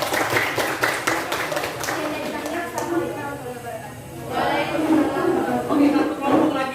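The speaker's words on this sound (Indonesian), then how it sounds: "Tepuk tangan dulu." Classroom applause for a group presentation, a burst of many hands clapping at once from students in a room, loud and close, fading into chatter and voices talking afterward.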